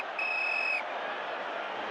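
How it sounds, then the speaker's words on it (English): A referee's whistle shrills in one steady half-second blast at the end of regulation time in the 1970 FA Cup Final between Chelsea and Leeds, followed by a quiet crowd hum. "And there goes the whistle for the end of 90 minutes"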